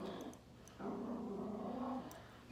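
A dog growls indoors, a low, rumbling, sustained growl at moderate volume lasting about a second, with faint clicks and small noises before and after it.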